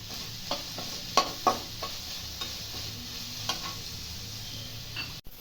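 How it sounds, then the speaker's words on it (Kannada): Capsicum fries in a pan over a soft continuous sizzle, with a few sharp stirring scrapes and clicks of a spoon against the pan, fairly quiet and close, no voices. "ಇವಾಗ ಕ್ಯಾಪ್ಸಿಕಮ್ ಹಾಕ್ತಾ ಇದ್ದೀನಿ ಇದನ್ನು ಒಂದು ನಿಮಿಷ ಫ್ರೈ ಮಾಡಬೇಕು"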